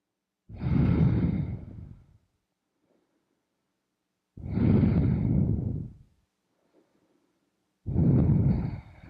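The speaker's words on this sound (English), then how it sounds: "A few more rounds of breath." Three slow, deep breaths during a yoga flow session, each a long audible exhale lasting over a second, close and clear, separated by quiet pauses.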